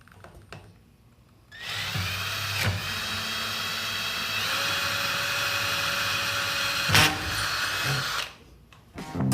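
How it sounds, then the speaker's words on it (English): A power drill whirs steadily for several seconds, close and loud, with a couple of brief clicks before it starts and stops. "Now the next hole I drill is going to be on this side"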